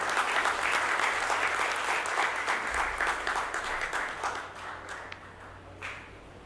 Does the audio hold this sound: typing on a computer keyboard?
no